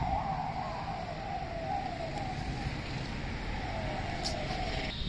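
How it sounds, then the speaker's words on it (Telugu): A police vehicle siren wails steadily through the whole stretch, a sustained rising and falling tone heard at moderate distance over a constant background hum, with no one talking. "అది పోలీస్ది సైరన్ వెహికల్ వచ్చింది"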